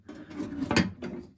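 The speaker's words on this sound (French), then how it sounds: "on va procéder à la remise en place" Door of a 1960 AEG lamp case with a low-pressure sodium fitting being put back in place, giving a few soft mechanical clunks and rattles close by, with a sharper knock near the middle.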